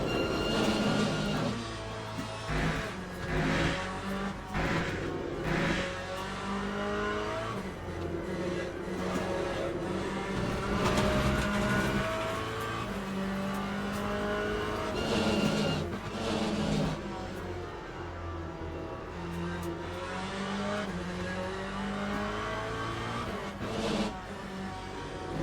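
A Corvette Z06 LMGT3.R race car in the Le Mans Ultimate sim at Spa runs flat out in sixth gear, its engine a steady, loud, droning roar that fills the whole stretch with no talk.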